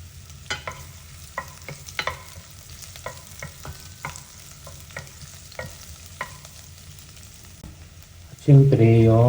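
Ginger and garlic fry in oil in a pan for a tofu vegetable soup, a soft sizzle under scattered clinks and scrapes of stirring, before a voice starts speaking loudly at the end.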